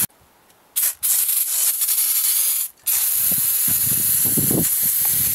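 Brake cleaner sprayed onto axle shaft parts, heard as loud, sustained hissing blasts with two short pauses between them, plus some scraping and rattling underneath toward the end.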